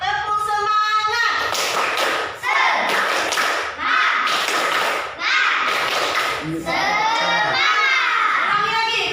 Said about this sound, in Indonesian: untuk ini kita tepuk semangat dulu biar jangan mengantuk